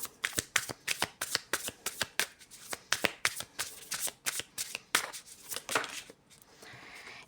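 Tarot cards are shuffled by hand in quick, crisp riffling bursts, a close, rhythmic series of slaps and flutters that slows toward the end.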